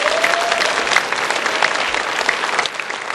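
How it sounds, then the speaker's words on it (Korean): A church congregation gives a warm round of applause during a Sunday worship service, dense steady clapping filling the room for a few seconds with little talk. "한번 축복의 박수 한번 해주시기 바랍니다."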